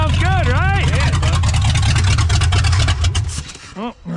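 A 1978 Lincoln V8 running rough and in need of carburetor tuning, loud and close with a steady rumbling idle and a few revs that wobble in pitch, then dropping away near the end.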